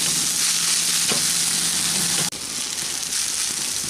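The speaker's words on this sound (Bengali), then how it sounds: "এখন এটাকে আবারও ভালো করে একটু মিক্স করে নিচ্ছি" A spiced noodle mixture sizzles loudly in a hot pan while being stirred, with a continuous dense frying hiss and occasional scraping strokes close by.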